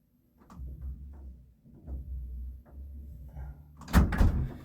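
Door opening as a manager enters a room during an indoor livestream, giving a sharp, loud clunk and rattle near the end after several seconds of low, muffled movement and rumble.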